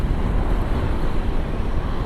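Wind roars across the microphone on a motorcycle ride through tree-lined roads in Antipolo, a loud, constant low buffeting rush with no talk.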